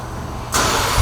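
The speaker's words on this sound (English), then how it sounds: "but let's go ahead and fire it up" A 2017 Ford Raptor's engine cranks and fires up, a quiet lull giving way to a sudden loud, broadband roar as it catches, close by with no talking.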